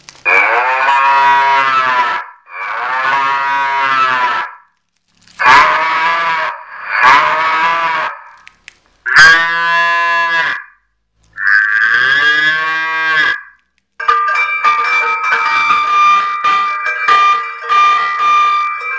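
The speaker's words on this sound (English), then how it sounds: "So this is our Cow Sounds 4 Sounds wireless car horn." A wireless electronic car horn plays a series of loud cow mooing calls, several drawn-out lowing tones in a row, ending with a buzzier siren-like burst.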